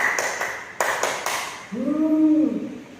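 Three sharp unison hand claps from a group in a counselling class exercise, followed by a voice calling out a short syllable.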